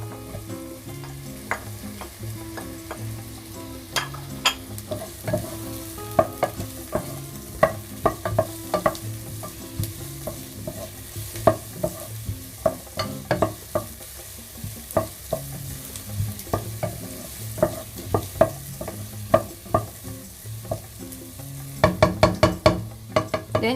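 Onions sautéing in a pan for coconut-milk tilapia give a steady close sizzle, broken by frequent spatula scrapes and knocks against the pan, with a burst of quick clicks near the end and no talking.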